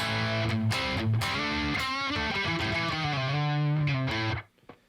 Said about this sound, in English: Here, I'll go through the new change in the echo sound here